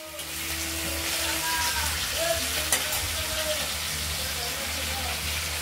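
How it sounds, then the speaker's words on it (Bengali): Rohu fish head frying in a pan, a steady close sizzle with faint stirring scrapes running throughout, alone without talk. "সেই জন্য মাথাটা ভাজা হচ্ছে"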